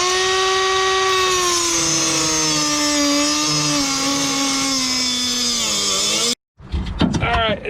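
Power tool whining steadily as bolts are backed out beneath a rusty Ford Taurus SHO, a loud sustained drone that drops off abruptly near the end, followed by short clattering and rattling.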